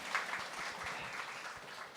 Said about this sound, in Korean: 박수 한 번만 부탁드립니다.